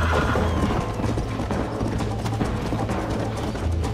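Horse hooves clip-clopping in the video game Red Dead Redemption, a continuous rhythmic trotting beat over steady game ambience, no speech.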